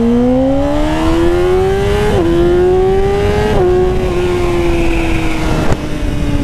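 A Yamaha R6 motorcycle's engine screams loudly and close as it accelerates, its pitch climbing steadily and dropping at two quick upshifts before easing off near the end.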